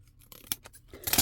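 Scissors snip the tip off a garden plant, a few quick, crisp cuts close to the microphone with soft rustling of foliage between them.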